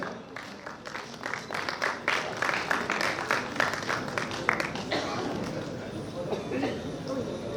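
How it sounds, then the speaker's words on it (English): Audience applause at an award ceremony for a pharmaceutical conference: scattered, uneven clapping that builds and rattles on for several seconds. "Big round of applause, everyone."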